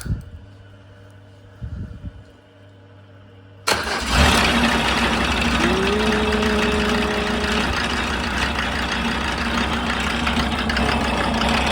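A Mercedes OM605 2.5-litre diesel engine with a mechanical injection pump, driving a PN40 irrigation water pump, cranks and fires up after a quiet start, then settles into a loud, steady close-up idle.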